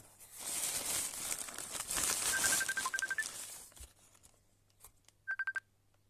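An incoming call on a phone, heard as two short bursts of bright electronic ring tones after crinkling packaging from an OLX parcel, with a final short ring sequence near the end; no talking.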